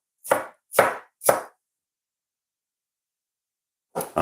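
Watermelon is diced with a knife in three quick, close chops in a row, then a long silent pause before two more cuts begin at the end.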